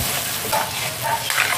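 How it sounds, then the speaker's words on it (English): Chicken feet afritada being stirred in a pan as its broth cooks down, giving a steady soft sizzle with the scrape and shuffle of a spoon moving through the thickening stew, close and continuous with no talking. "Haluin muna natin ng ayos."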